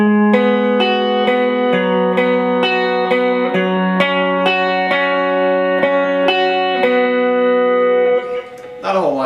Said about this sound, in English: So with the delay, it sounds like this.